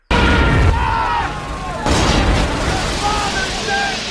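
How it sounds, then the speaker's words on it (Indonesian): Bombs exploding in a World War II Stalingrad battle scene from a war film: continuous loud, rumbling blasts and roaring debris filling the whole stretch, with a fresh heavy explosion midway, dense and close. "Tak kala Jerman menjatuhkan banyak sekali bom untuk mencegah mereka semua."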